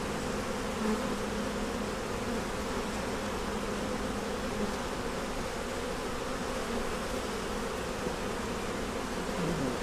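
Honey bees buzz steadily at an open, honey-producing hive with frames of pollen and nectar, a dense, continuous drone close by with no talking.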